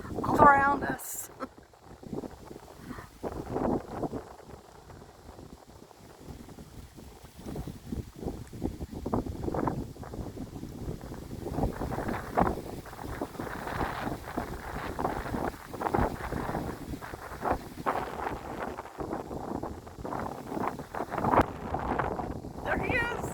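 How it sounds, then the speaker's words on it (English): Wind blows outdoors across an open microphone, producing gusty rumbling buffets that rise and fall throughout, under frequent talking by a man and a woman. "It's also windy, all around us."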